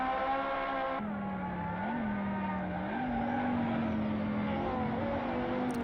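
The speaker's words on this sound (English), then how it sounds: "Hearing that little bit of turbo, or whatever it is," A racing car engine in the video game Assetto Corsa drones steadily up close, its pitch rising and dipping with a whistling turbo edge, continuous and loud with no voices.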